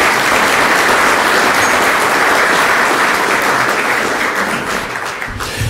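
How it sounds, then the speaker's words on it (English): A large audience at the Pancakes & Politics forum applauds the sponsors, loud continuous clapping from many hands that holds steady and then tapers slightly near the end. "I want to give them a round of applause"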